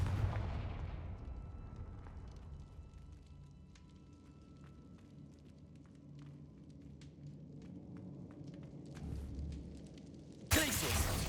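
Confringo explosion spells in the game Hogwarts Legacy: a booming blast at the start fades into a low rumble, with a second sudden burst near the end, all fairly quiet overall.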